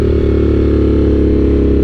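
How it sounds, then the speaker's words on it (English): A very loud motorcycle exhaust booms at steady low-rev cruise while riding in fourth gear around 4,000 RPM, a dense, close, continuous throbbing roar. "You're going to be pretty hamstrung by that outrageously loud exhaust sound."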